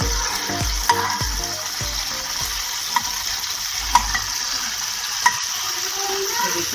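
Steady sizzling and crackling of potatoes frying in a little hot oil, for aloo matar curry, with occasional clinks and stirring sounds, close and continuous.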